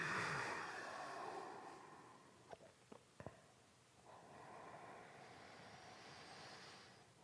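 Slow, deep breathing during a heart-opening yoga pose: a long, soft airy exhale, a few small clicks and quiet sniffs, then another gentle breath, all faint and close.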